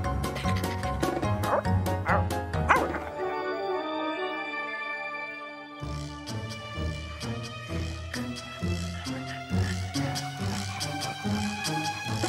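Small dogs yip and bark excitedly in quick bursts, mixed with bouncy music throughout.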